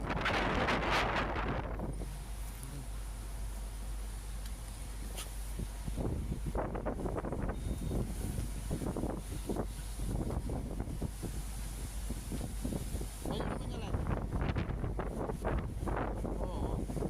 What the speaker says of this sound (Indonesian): Anginnya cukup kencang ya